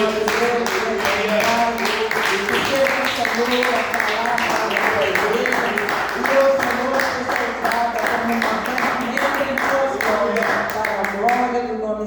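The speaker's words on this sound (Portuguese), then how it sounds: "glorificando ao Senhor com as palmas" A church congregation claps in praise during a service, a steady rhythmic beat of many hands under sustained voices throughout.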